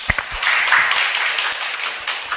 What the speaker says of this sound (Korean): 자, 박수 한번 부탁드릴게요.